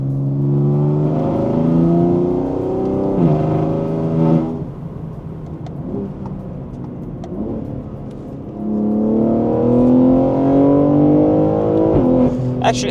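A BMW G80 with an equal length exhaust and midpipe revs loudly and steadily, its raspy, slightly metallic low-rev tone rising and falling through two long rev sweeps with a brief dip between.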